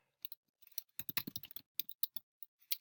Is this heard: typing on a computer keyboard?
yes